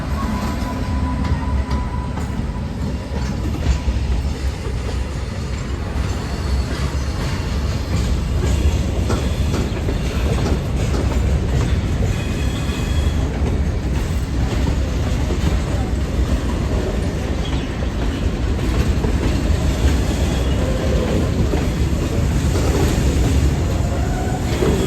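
Train on a western railway line between Jamjodhpur and Rajkot passing an oncoming Tughlakabad-shed electric locomotive with a raised high pantograph, a steady loud rumble and rattle of wheels and coaches running continuously throughout, with voices faintly underneath.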